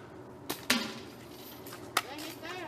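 Arrows striking archery targets outdoors, heard as three sharp thuds spread across a few seconds, with a steady background hiss and faint voices between the hits.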